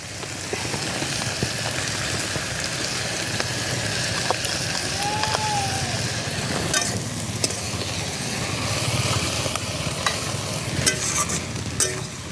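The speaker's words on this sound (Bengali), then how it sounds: "চিংড়ি মাছটা দিয়ে আবার একটু ভালো করে নেড়ে চেড়ে শাপলার গায়ে লাগিয়ে নিলাম।" Water lily stems and shrimp stirred together in a hot frying pan, giving a steady, close sizzle with scraping stir strokes throughout and no talking.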